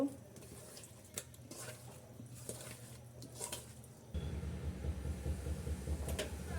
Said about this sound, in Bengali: আমি সকল মশলা দিছি, এখন মাখাইয়ে নেব।